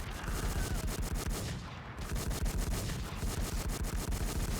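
Automatic weapon fire in a shooter game, a fast regular stream of loud close shots that pauses briefly partway, then resumes in rapid bursts.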